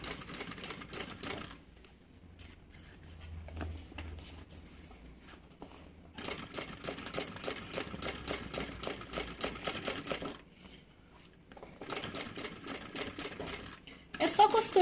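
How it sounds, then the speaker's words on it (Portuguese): Sewing machine stitching a bag, running in several bursts of rapid, even needle chatter separated by quieter pauses, fairly close and moderately loud. "É só costurar em cima dessa primeira linha que a gente fez"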